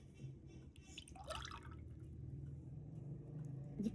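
Cooking oil poured into a measuring cup for baking qaraqish cookies: a steady, soft liquid trickle with small drips, close and fairly quiet, over low kitchen background hum.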